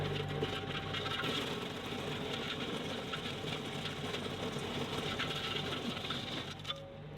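Kioti DK 4710 tractor driving a PTO stump grinder, a continuous dense rumbling drone with gritty chatter from the cutting, steady and fairly loud throughout.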